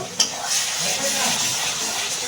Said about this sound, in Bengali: মশলাটা দুই থেকে তিন মিনিট কষিয়ে নেব দেখুন আমার মশলা কষানো হয়ে গেছে তেলটাও রিলিজ হতে শুরু করেছে